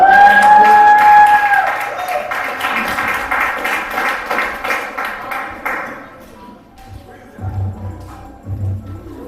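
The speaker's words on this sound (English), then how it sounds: "Let's get a round of applause for" An audience at a poetry event claps for the next poet, a loud burst of many hands that tapers off over several seconds, with a voice speaking underneath as it fades.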